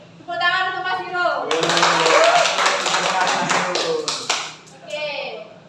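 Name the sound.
class applauding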